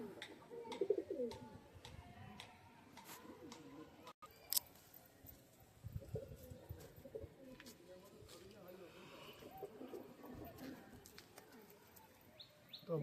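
Domestic local pigeons coo in a home loft, soft repeated throaty calls mixed with scattered chirps and rustling, heard close but quiet, with a voice faintly present.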